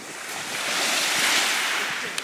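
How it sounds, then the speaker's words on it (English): Ocean waves breaking and washing ashore at a beach in Greece, a steady broadband surf roar that swells and eases over a couple of seconds, with some wind buffeting the microphone and no talking. "This is the beach."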